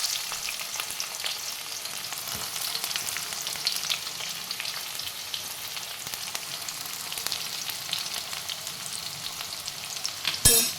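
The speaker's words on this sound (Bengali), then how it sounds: "এবার দিলাম পেঁয়াজ কুচি।" Chopped onions fry in hot oil with crushed whole garam masala and a pinch of sugar, a steady close sizzle with occasional stirring scrapes and a clatter at the end.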